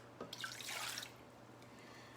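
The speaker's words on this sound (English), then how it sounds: "So now you're gonna add your cold milk" Cold milk pours into a container for frozen hot chocolate, a short, soft splash and trickle lasting about a second, then quiet with a faint steady hum.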